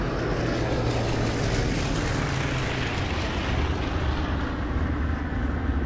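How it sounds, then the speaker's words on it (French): Dakota transport planes take off heavily towing gliders during the wartime landings, a loud continuous droning engine roar that fills the whole stretch without a break. "Ils décollent lourdement, parfois 2 ensemble, tractés par des Dakota, le roi des avions de transport de la guerre."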